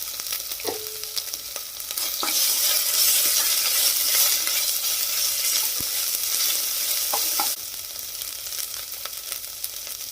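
Green chillies with ginger garlic paste sizzle and fry in a pan for a chicken curry, with steady broadband frying hiss swelling louder midway and occasional scraping stirs and clinks of a utensil against the pan.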